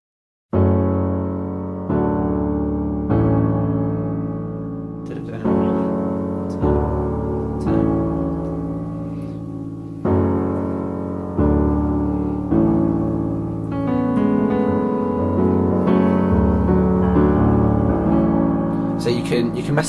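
Piano plays the chorus of a song as a steady series of sustained chords, each struck and left to decay before the next, close and alone with no talk.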